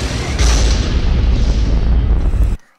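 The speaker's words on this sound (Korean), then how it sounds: "위에서 뭔가 날아와서 터지죠. 폭발하는 폭파음이 여기" A heavy, booming designed explosion sound effect erupts loudly and rumbles for a couple of seconds before cutting off abruptly.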